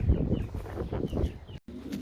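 Pet pigeons, newly bought males with white and mixed plumage, coo softly at close range in a few low, throaty phrases with a brief gap near the end.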